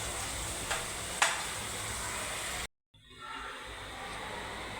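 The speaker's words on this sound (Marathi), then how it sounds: "आणि कांदा ब्राऊन होईपर्यंत त्याला फ्राय करूया" Onion frying in a pan until brown, for a dam biryani made with a ground masala paste: a steady close sizzle with a couple of sharp stirring clicks, then a brief cut to silence before the sizzling resumes.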